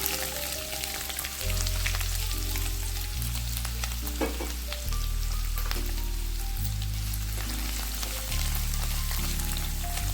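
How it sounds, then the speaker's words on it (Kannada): Pieces of bitter gourd fry in a pan with a continuous sizzle. Scraping stirs cut in and out, and a low stepped tonal hum runs underneath. "ಈಗ ಇದನ್ನು ಚೆನ್ನಾಗಿ ಫ್ರೈ ಮಾಡಬೇಕು."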